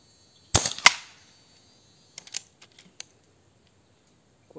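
Rifle fitted with a Fiora 480mm barrel fires a sharp, loud shot, followed moments later by a second crack, then faint scattered clicks and rustles in an otherwise quiet outdoor range.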